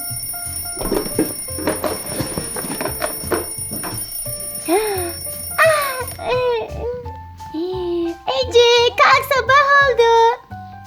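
A children's electronic alarm clock rings with bright, bouncing musical tones in quick bursts, close and loud, over a busy background of other sounds.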